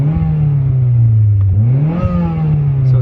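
A car engine revs loud and close, rising, dipping and climbing again over three seconds to show throttle response after an upper intercooler pipe install, with no one talking.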